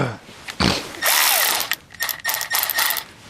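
A cordless power tool works on a car wheel hub during bearing and caliper replacement on a 2004 Ford Explorer, giving several short whirring bursts with ratcheting clatter between them, close and fairly loud.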